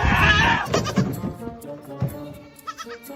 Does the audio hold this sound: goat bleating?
yes